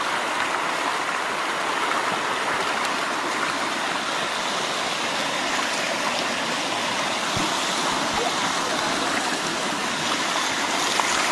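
River water flows in a steady, broad rushing wash with no breaks, close and fairly loud, with no voices present.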